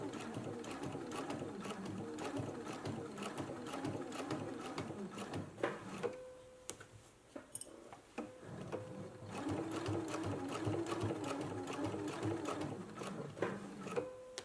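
Sewing machine stitching a shirt placket on McCall's M8449 pattern, a fast steady mechanical whirr running in long bursts with a short pause midway, close and clear, with faint sounds of handling.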